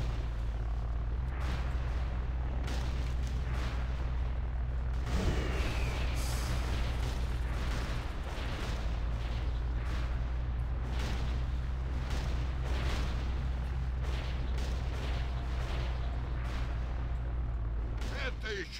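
Repeated booming cannon shots go off in irregular bursts over a steady low engine rumble, with battle noise filling the gaps.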